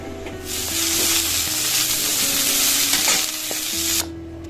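Cauliflower frying in hot oil in a wok, a loud, continuous close sizzle with bright crackling that cuts off abruptly near the end.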